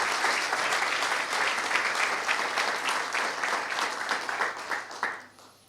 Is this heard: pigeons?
no